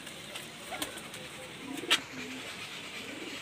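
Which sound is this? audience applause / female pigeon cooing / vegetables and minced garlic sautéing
female pigeon cooing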